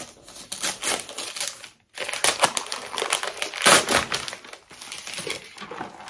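A parcel of sweets, Belgian cuberdons, is torn open by hand: close, busy crinkling and tearing of paper and wrapping in bursts, with one brief pause partway through and no talk.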